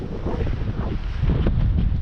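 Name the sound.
strong wind blowing on a frozen lake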